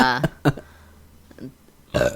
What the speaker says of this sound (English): The burp.